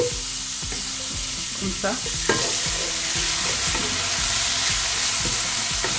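Shrimp sauté loudly in a pan with a garlic-ginger mix, a steady broad sizzle running throughout while a utensil stirs and scrapes in repeated clicks; a brief voice speaks once.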